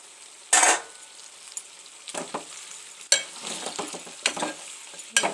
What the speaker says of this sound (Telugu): టమాటా పేస్ట్ వేసేద్దాం